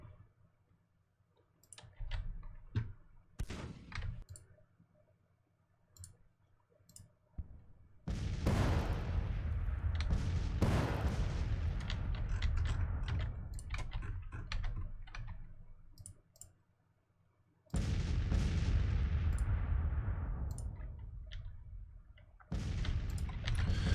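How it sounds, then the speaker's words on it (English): Cannon artillery fires in the Civil War strategy game Grand Tactician, heard as scattered sharp booms and clicks followed by long, loud, rumbling barrages that come in heavy bursts with brief quiet gaps between them. "Okay, our cannons are engaged with the enemy cannons."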